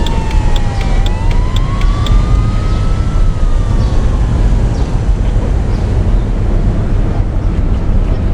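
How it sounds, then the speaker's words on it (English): A wailing emergency vehicle siren in a PlayStation 5 driving game, its pitch sweeping up and down as it approaches from a distance over a steady rumble of road and engine noise. "the sound of an emergency vehicle approaching in the distance"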